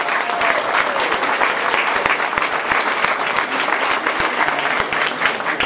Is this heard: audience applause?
yes